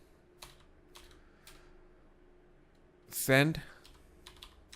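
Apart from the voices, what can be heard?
typing code on a computer keyboard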